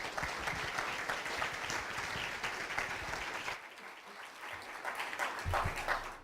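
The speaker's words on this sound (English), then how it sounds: "Let's all give these guys a round of applause because they've been brilliant." Sustained audience applause following a conference panel session, steady and fairly close, with a drop midway before the clapping swells again.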